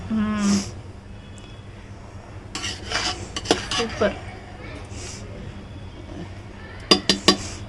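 A metal ladle scrapes and clinks against a pot of mutton biryani cooked over a wood fire. The sharp scrapes come in bursts, with a voice talking nearby between them.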